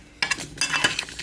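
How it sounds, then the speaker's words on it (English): Jollof rice with chickpeas is stirred in a pot over medium heat, brief scraping and clinking strokes of a spoon against the pot over a soft sizzle, close and short. "Mix it together and let it cook for"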